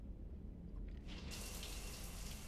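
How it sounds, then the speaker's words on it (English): Shower water in the Mass Effect 3 game starts up partway through, a quiet bed of hum giving way to a steady hissing spray that continues to the end. "And into the shower she goes"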